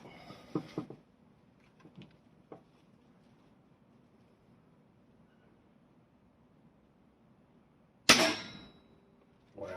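A Weihrauch HW97 air rifle fitted with a Vortek PG4 steel kit fires a single sharp shot, a brief loud crack after a stretch of near silence and a few faint clicks.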